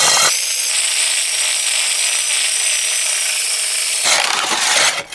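A diamond core drill grinds steadily through a masonry wall with a high, whining hiss, then the tone shifts briefly as it breaks through to the cavity before stopping.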